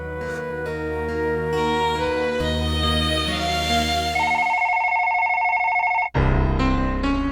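A telephone ringtone plays loudly and goes unanswered, a steady melodic electronic tune repeating over several seconds with a brief break near the end before it resumes.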